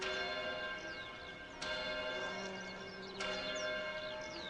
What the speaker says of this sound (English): Is that a bell?